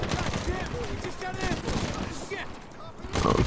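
Gunfire in the video game Medal of Honor: dense, rapid bursts of automatic shooting run throughout, loud and close, while a voice talks over the shots.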